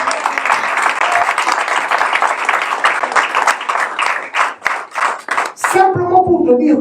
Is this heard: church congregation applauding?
yes